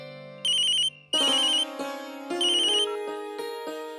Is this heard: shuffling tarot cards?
no